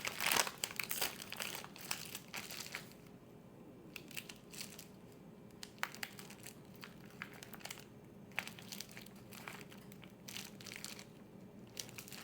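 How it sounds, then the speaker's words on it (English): String cheese sticks are cut in half while still in their plastic wrappers, making crinkling and crunching plastic noises, busier at first and then in sparse, close snips and rustles. "take these and cut them in half, and you can leave them right in this wrapper to do that."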